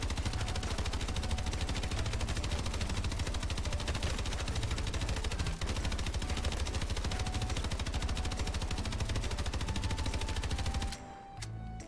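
Rapid, continuous gunfire from the Call of Duty: Advanced Warfare video game, with dense automatic bursts running steadily for about eleven seconds before cutting off abruptly.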